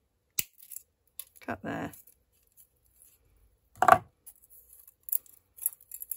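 Scissors cut through material while a spiral bound journal is being bound. A few sharp, separate snips and rustles come up close in a quiet room, and a brief spoken word falls between them.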